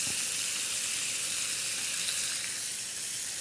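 A ribeye steak sizzles loudly and steadily on a hot grill, a constant crackling hiss with nothing else audible.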